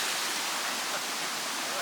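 The Turure Watersteps waterfall at Cumaca Falls, Trinidad, rushes in a loud, dense, unbroken roar of falling water heard up close, with no pauses.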